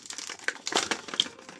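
Crinkly plastic wrapper of a Pokémon card booster pack being torn open, close and fairly loud bursts of crumpling and ripping over under two seconds.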